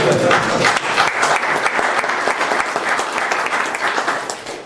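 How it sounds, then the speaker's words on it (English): A round of applause at a Lindsborg city council meeting: a small group claps close by, crisp and uneven, holding fairly steady before tapering off near the end. "let's give a round of applause"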